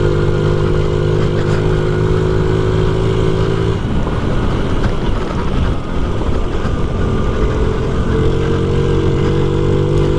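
A 1993 Honda Z50R minibike rides a trail, its small engine buzzing loud and close with steady revs, easing off mid-run and picking back up, with wind rushing over the microphone throughout.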